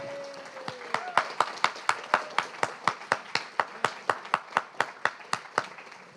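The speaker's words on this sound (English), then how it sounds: "Let's do one more round of applause for Marilyn Chin." After a poetry reading by Marilyn Chin, clapping comes as sharp, evenly spaced claps, about three per second, a steady rhythmic beat lasting several seconds rather than a scattered wash.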